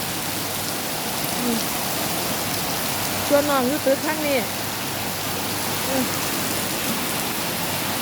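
Steady rain hiss fills the whole stretch, with a voice speaking briefly partway through.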